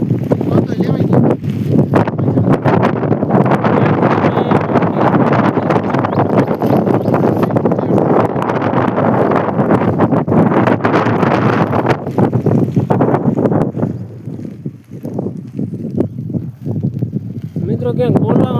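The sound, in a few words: strong wind blowing on the microphone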